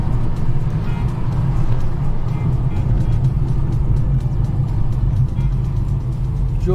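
Inside a Hyundai Grand i10 Nios cruising in top gear above 100 on a highway, a constant deep road and engine drone fills the cabin, steady and loud with faint voices beneath.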